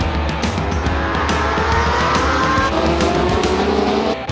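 A pack of Formula Extreme 1000cc and 600cc race motorcycles roars away together at a race start, a dense, loud, continuous wall of engine noise with overlapping revs and no talk.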